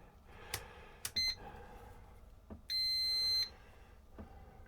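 Multimeter in continuity mode giving a short beep and then a longer steady tone of about a second while probing a ZX Spectrum circuit board, with close clicks of probes and handling between.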